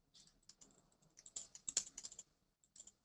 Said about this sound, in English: I'm hoping I'm typing all this right.